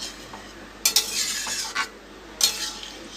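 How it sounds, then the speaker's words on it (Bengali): Spoon stirring dal made with chana lentils in a pot, a few sharp scrapes and clinks against the metal over a soft bubbling simmer, close and without talk. "এই যে ডালটা দিয়ে এবার একটু ফোটাতে হবে"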